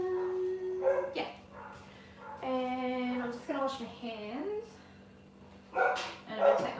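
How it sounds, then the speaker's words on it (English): Dogs bark repeatedly in a home kitchen while builders work next door, sharp yips and barks scattered through the clip and at times overlapping someone talking as she cooks vegetable dumplings. "Sorry about the dogs barking."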